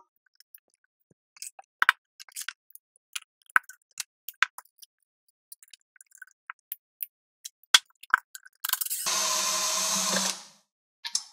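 Guitar hardware being taken apart with power tools: scattered clicks and clinks of parts and tools, then a loud cordless drill whirring steadily for about two seconds near the end.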